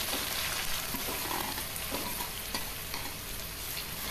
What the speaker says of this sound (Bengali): এবারে হাই ফ্লেমে পেঁয়াজটাকে নাড়াচাড়া করে একটু বেশ লাল করে ভেজে নিতে হবে।